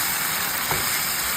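Beef pares seasoned with pepper being stirred in a pan: a steady, close hiss of sizzling with one brief scrape of the utensil midway, no talking.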